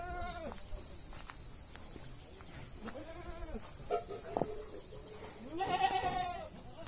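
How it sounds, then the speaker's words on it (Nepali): Goats on a rural farm give about three drawn-out, wavering bleats spaced a few seconds apart. The bleats are moderately close over a quiet outdoor background. "कतिवटा छ यो बाख्रा"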